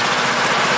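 A Honda HRU216M1 lawn mower engine idles roughly in a short steady burst, loud and close with a dense buzzing drone and no talk.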